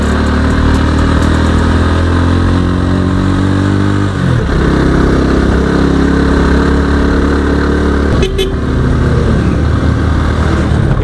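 Big bike motorcycles climb a mountain road in Aguilar, Pangasinan, a loud, close engine drone whose pitch rises through the gears and then falls away as a shift comes midway, continuing steadily.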